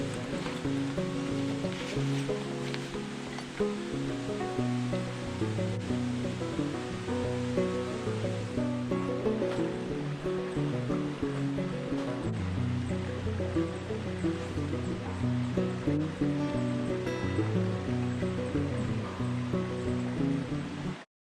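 Steady, continuous rushing of river water flows throughout, with an even wash and light burbling texture layered under a constant musical or ambient bed in a fishing game setting.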